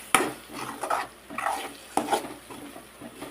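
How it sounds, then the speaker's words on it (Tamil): Beaten eggs being stirred into a sautéed mixture in a pan, with several distinct scrapes and clinks of a spoon against the pan over faint background sizzle, no talking. "நல்லா மிக்ஸ் பண்ணி விட்டுக்கலாம்."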